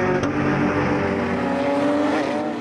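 Race cars, a Porsche among them, roar around the circuit at Nogaro in a steady, loud engine drone with rising and falling pitch as they run close by, without any talk over it.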